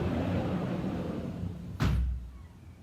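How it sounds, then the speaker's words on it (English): A door is pushed shut during an indoor guided meditation, a single sharp thud with a brief rattle after a stretch of quiet room noise, close and moderately loud. "I'm going to close the door."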